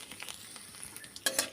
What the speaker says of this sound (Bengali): এবার দিয়ে দেবো 2টো শুকনো লঙ্কা